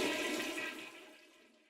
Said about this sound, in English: the way to do it politely is to make sure you flush the toilet afterwards